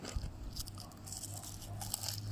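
Crisp bites into a baked, dried okra snack, a few close crunches and chewing sounds at low volume with no talking.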